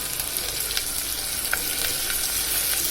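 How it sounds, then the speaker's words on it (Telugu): Ginger garlic paste sizzles steadily in a hot pan for a tamarind-style stew, a loud, close, continuous frying hiss with small crackling pops and no voices. "అల్లం వెల్లుల్లి పేస్ట్ వేసుకుందాము ఎక్కువ వేగకూడదు కొంచెం వేగిన చాలు"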